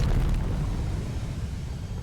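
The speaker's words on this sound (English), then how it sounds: "A thunderous explosion echoed throughout the city" A loud explosion in the video game Pokémon Legends: Z-A, set in Lumiose City, starts as a heavy low boom and fades into a deep rumbling decay over about two seconds.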